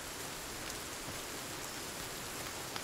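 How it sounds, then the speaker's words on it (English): Steady rain pours in the survival game Sons of the Forest, a dense, even hiss of drops on surfaces that fills the whole stretch without pause, loud and close with no voices. "Now it's so loud and rainy."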